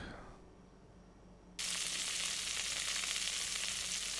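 Steak sizzles in a frying pan in a video game, a sudden loud hiss that starts after a quiet moment and then holds steady and close to the end.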